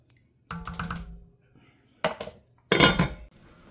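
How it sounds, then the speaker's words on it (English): Metal pot lid set onto a pot of simmering three-onion chili in a home kitchen, a few separate clanks and rattles with a louder clattering settle near the end, close and fairly loud. "we're going to cover this baby with a lid"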